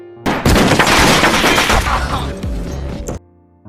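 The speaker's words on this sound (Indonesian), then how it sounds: "terjadilah baku tembak antara kaum muda dan kaum tua" Dense gunfight from the film We Still Kill the Old Way, a loud close barrage of rapid overlapping gunshots and booms that breaks off abruptly after about three seconds.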